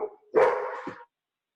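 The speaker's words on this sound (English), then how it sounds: "Sorry about the dogs, by the way" Indoor dogs let out a short burst of barking, a couple of close, loud barks with a whiny edge, then silence.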